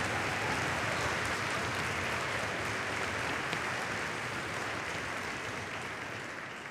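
An audience at a middle school band Christmas concert applauds the students, a dense, steady wash of clapping from many hands that carries throughout and eases off slightly toward the end.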